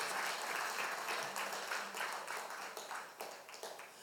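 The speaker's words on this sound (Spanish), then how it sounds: "Le damos otro aplauso al Señor por eso." Applause from a church congregation at a Spanish-language service, with many hands clapping in a dense, steady wash. The sound stays fairly even and moderately distant for about four seconds, with no talk over it.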